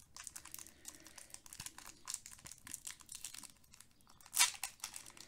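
Foil booster pack wrappers for Pokémon Astral Radiance cards being cut open with scissors, a steady run of close crinkling and rustling with one sharper snip-like burst near the end, no talking.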